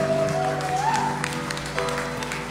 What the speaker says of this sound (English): let's close by applauding Jesus and honoring him today.